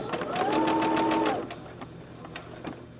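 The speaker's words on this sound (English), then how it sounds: "I'm going to take it to the machine. I'm going to start that stitch." A sewing machine runs a brief burst of stitching on an 18 inch doll dress, a close, steady whirring that lasts about a second before stopping, followed by faint handling clicks.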